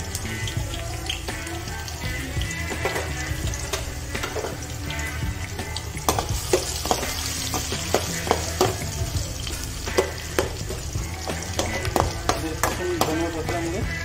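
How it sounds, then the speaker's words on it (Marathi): Finely chopped onion goes into hot oil with cumin in a home kitchen pan: a dense, continuous sizzle with frequent sharp crackles, pops and utensil clicks, close and steady throughout. "आता याच्यामध्ये आपण कांदा टाकून घेऊ बारीक केलेला।"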